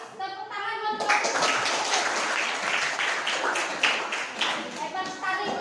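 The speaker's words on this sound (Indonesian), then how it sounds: "Tepuk tangan buat kelompok" Classroom applause for group 1 during a guidance lesson, a burst of children clapping that starts abruptly after a teacher's voice and continues for several seconds with voices mixed in, before talk resumes.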